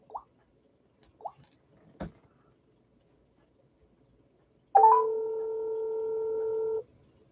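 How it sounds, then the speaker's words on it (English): A mobile phone ringing alone in a quiet room, a steady electronic tone lasting about two seconds after a few soft clicks and taps. "I hear her phone ringing, so she must have it"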